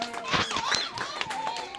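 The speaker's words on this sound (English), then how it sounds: "Hey, big round of applause for James." A small audience claps for a child named James, a brief patter of hand claps blended with faint background voices, moderately close.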